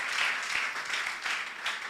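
A church congregation gives a short burst of applause, many hands clapping in a dense, even wash that holds steady before trailing off.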